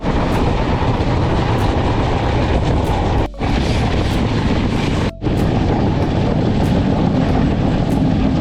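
Mandovi Express running along the Konkan Railway, a steady loud rumble and rattle of carriages on the rails, continuous apart from two brief dips, with no talking.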